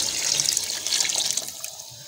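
Water pours steadily into a cooking pot while making vegetable pulao, a close, continuous splashing that thins out toward the end.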